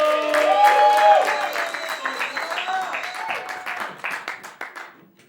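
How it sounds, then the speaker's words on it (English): Steady applause from a live late-night talk show studio audience, loud at first and gradually thinning into scattered claps as it fades out. "get the round of applause going"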